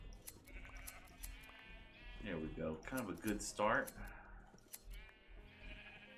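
Sheep on a Minecraft farm bleat in a short run of wavering, nasal cries in the middle of the stretch, while someone talks briefly before and after.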